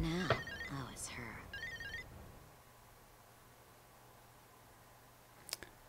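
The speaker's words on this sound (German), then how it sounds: "Oh, Telefon." A telephone rings in the Street Fighter 5 story mode, two short electronic ring bursts early, then a quiet hum and a faint clicking near the end.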